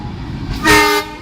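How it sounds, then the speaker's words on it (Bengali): Bhanga commuter train on the Dhaka–Bhanga line passing through a station on its inaugural run, sounding a loud, steady horn blast of about a third of a second over rumbling rail noise, with no talk. "ভাঙ্গা কমিডার ট্রেনটি গ্যান্ডেরা থ্রু পাস করছে"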